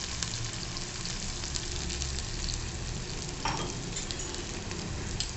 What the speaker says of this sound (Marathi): आता आपण छान सगळं परतवून घ्यायचं